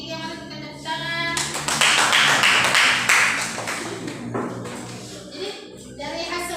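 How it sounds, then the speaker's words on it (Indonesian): A classroom of students applauds a presenting group, a burst of clapping that swells and fades over several seconds, with a teacher's voice speaking before and a little talk around it. "mari kita tepuk tangan"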